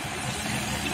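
Engines of rice boats running on a river in Vietnam's Mekong Delta, a steady mid-pitched motor drone that holds evenly throughout.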